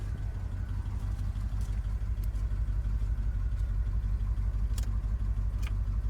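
A Jeep J20 truck with an AMC 360 engine, running with a slight tick and low oil pressure, idles steadily: an even low rumble with a few faint ticks and clinks, close by and with no voices.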